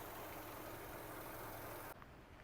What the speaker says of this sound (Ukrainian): Вимкнув кондиціонер, грузка впала, мотор працює тихіше.